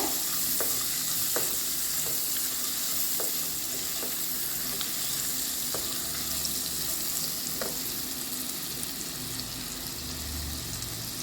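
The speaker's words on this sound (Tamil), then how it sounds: "இதே கொஞ்சம் நேரம் நல்லா வதக்கி விடுங்க" Kadai masala with salt being sautéed in a pan, a steady close sizzle with soft stirring scrapes and a few sharp spoon taps throughout, no talk.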